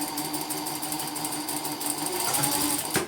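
A sewing machine with a hemming foot stitches fabric, a fast, even mechanical whirr close by that runs continuously and ends with a brief clunk.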